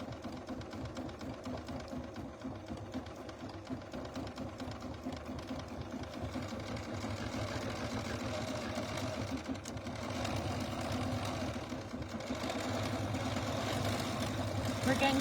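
A sewing machine stitches over a mini quilt, a steady close mechanical whir running throughout and growing slightly louder toward the end, with a voice speaking over part of it.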